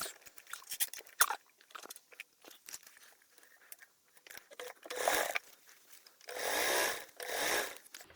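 A sewing machine stitches a bag seam with a 1/4 inch seam allowance, starting with scattered clicks and fabric handling, then running in two loud, close bursts of whirring stitching.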